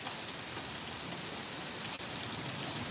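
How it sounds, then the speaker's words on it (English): Small pea-sized hail falls steadily during a storm, a dense, even patter and hiss across surfaces that continues for the whole span without voices. "Yeah, we got some small hail falling here"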